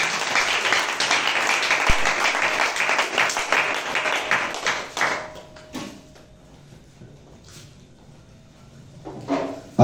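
Congregation applauding and cheering at a lively Holy Spirit church gathering in Bobo, loud dense clapping for the first half, then fading into scattered sounds and a short burst again at the end.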